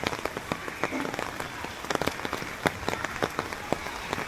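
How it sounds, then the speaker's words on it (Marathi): Heavy rain falls steadily in a village, a dense hiss of drops on surfaces broken by frequent sharper splats and taps, fairly close and continuous, with no talk. "काल रात्रीपासूनच पाऊस हा पडतोय आणि मस्त असं पडतोय"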